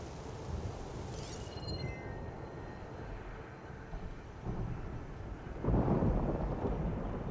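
Thunderstorm in the video game Horizon Forbidden West: low, rumbling thunder rolls under steady wind and rain noise, with a heavier crack swelling near the end, fairly faint and without talk.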